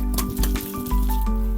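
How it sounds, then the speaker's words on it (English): Water poured from a watering can onto a newly potted cordyline plant in a larger pot, a close, steady splashing trickle with soft liquid gurgles. "I will just give it a water now just to settle it in."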